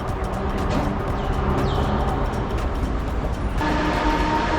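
Haramain high-speed train at a station platform, a steady loud rumble of rail transport noise with faint clicks, continuous throughout and without speech.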